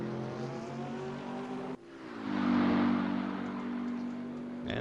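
Race cars, including a black and red Porsche, circle Mount Panorama at Bathurst, Australia, in a racing video game, with a steady engine drone that swells as one car closes in and passes.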